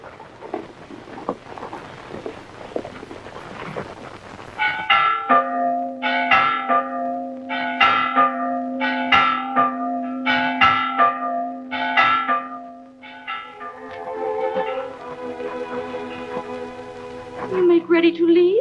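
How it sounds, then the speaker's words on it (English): Church bells chime in a repeated, rhythmic peal in a quiet valley, following a stretch of talk, then ringing steadily with tonal strikes and fading into softer tones near the end. "It'll be a relief from the gabble of politicians to hear those chimes in the quiet valley"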